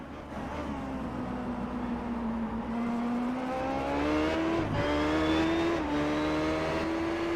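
A classic Indycar engine at Motegi whines upward, then blips sharply as it downshifts before climbing again, a loud continuous mechanical howl.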